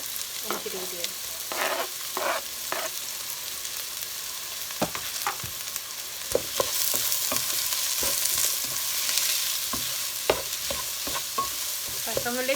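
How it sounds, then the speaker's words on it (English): Onions and garlic cooking in a pan for a spaghetti Bolognese, with a soft steady sizzle under repeated scraping and stirring strokes from a utensil, close and moderately loud, no talking. "I'm going to add the onions and the garlic. Let that braise or saute for a few minutes"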